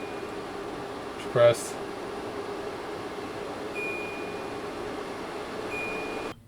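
Air purifier with an ionizer blowing a steady broadband airflow hiss throughout, with a short beep from its control panel near the start and a voice speaking briefly.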